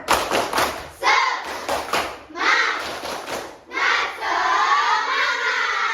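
Children clap together in rhythmic bursts, sharp claps in quick patterns separated by short pauses, with young voices chanting a classroom "tepuk semangat" clapping chant.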